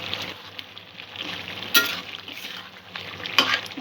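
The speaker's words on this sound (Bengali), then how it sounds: "মশলাটা মাংসের সাথে ভালো করে মিক্স করে নেব।" Chicken with spice masala sizzles in a pan while it is stirred, giving a steady frying hiss with two sharp scraping clanks of a utensil against the pan.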